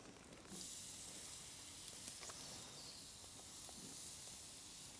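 Ribeye steaks sizzle on a flame grill beside a T-bone, a steady broad hiss that jumps up as the meat goes down and then holds evenly, close and alone with scattered faint pops.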